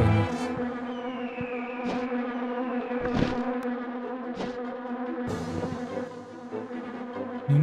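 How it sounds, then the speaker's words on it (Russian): Steady buzzing of bees in The Grinch video game, a continuous droning hum with occasional soft game thuds and swells layered over it. "Ничего, пчелы еще летают."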